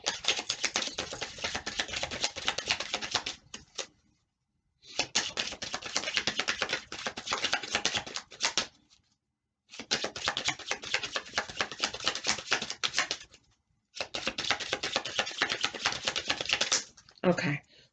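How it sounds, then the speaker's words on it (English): A deck of tarot cards is shuffled in four bursts of rapid, crisp riffling and tapping, each lasting a few seconds and separated by short silent pauses, close and clear with no talking. "Okay, we're going to do another shuffle."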